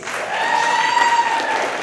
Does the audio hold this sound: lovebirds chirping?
no